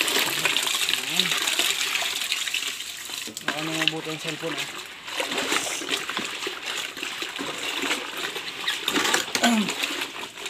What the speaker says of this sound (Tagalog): Nalagyan natin ng mainit na tubig para mamatay yung uod.